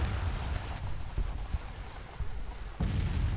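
Gunfire in a Civil War strategy game, Union Summer 1861 campaign: a rolling series of low booms and muffled shots, fairly close, with a heavier burst near the end and no talk.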